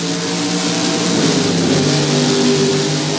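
Race cars in a dirt oval racing video game drone and rev at full throttle, a dense steady engine roar close up with no talk.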